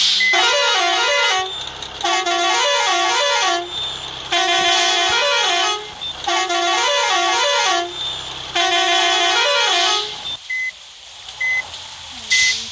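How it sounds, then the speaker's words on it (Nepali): A Nepali bus's loud musical horn plays a repeating melodic tune in several bursts, each phrase of rising and falling notes separated by short pauses, with faint beeps between. "हर्न पनि गीत गाएर अहिले कस्तो भयो।"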